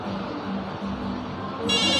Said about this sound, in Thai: เดี๋ยวผมจะลองโทรดูนะฮะโทรเข้าโทรศัพท์บ้านนะครับ